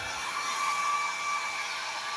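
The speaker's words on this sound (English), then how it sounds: "now I'm gonna get this backing off with my mother's Conair hair dryer." A Conair hair dryer blows steadily on a camera back to soften glue, a constant broadband airy rush that stays even and close for the whole stretch.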